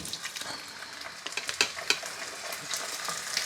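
Steaks searing in a hot pan give a steady close sizzle and crackle, with sharper pops and spatters near the middle and no voices over it.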